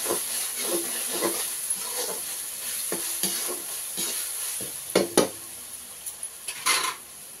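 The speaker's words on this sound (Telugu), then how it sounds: "ఈ మసాలా బాగా వేగిందండి" Masala sizzles softly in a pan while a spoon repeatedly scrapes and stirs it, with sharp metallic clinks against the pot standing out in irregular bursts over a steady frying hiss.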